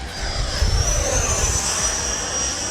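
An FMS F-16 70mm electric ducted-fan RC jet flies past, its loud rushing whine and high-pitched turbine tone sweeping steadily across the sky with no talk.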